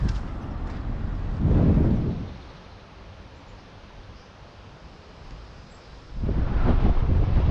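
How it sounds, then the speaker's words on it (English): Wind buffeting a microphone atop a view tower in Kuldīga, Latvia, with heavy low rumbling gusts at the start and end and a quieter steady rush in between. "It's quite windy."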